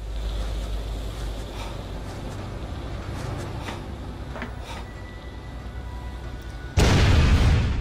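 Dynamite goes off in the video game Call of Cthulhu: Dark Corners of the Earth, a sudden heavy boom bursting in near the end after a stretch of low rumbling ambience and faint clanks.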